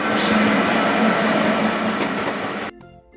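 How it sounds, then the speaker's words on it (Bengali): A train rushes past at speed with a loud, steady rumble and rattling wheel noise that cuts off abruptly near the end, leaving brief quiet tones. "রেলগাড়ি জোরে চলে"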